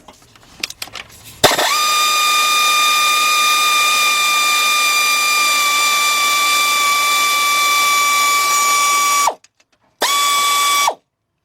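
A 15 mm shallow socket on a 3/8 drive powered ratchet spins off tensioner pulley bolts on a Chrysler/Dodge/Jeep engine: a loud, steady, close mechanical whine runs for about eight seconds, stops, then returns in one brief final burst.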